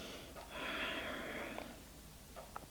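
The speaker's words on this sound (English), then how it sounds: "Take a few deep breaths." A person takes a deep breath during a yoga stretch: one long, close, airy breath lasting about a second, followed by faint softer breaths.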